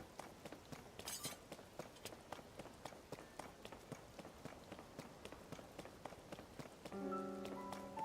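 Rain falls in the video game Zelda: Tears of the Kingdom as a continuous wash of dense patter with sharp taps mixed through it. It is steady and fairly close, and a short tonal game sound comes in near the end.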